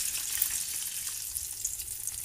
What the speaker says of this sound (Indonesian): Lanjut bisa kita goreng di api sedang di minyak yang udah panas.